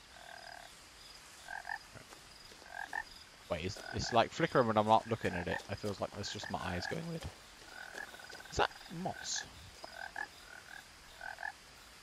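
Frogs croak in the video game What Remains of Edith Finch with repeated rhythmic calls, joined by faint chirping insects, while a person talks over them.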